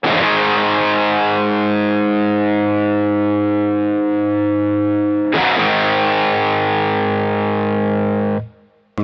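Electric guitar rings out through a Phenyx Pro PTG-11 wireless unit, a sustained distorted chord decaying, then struck again at mid-clip and held loud before cutting off abruptly near the end.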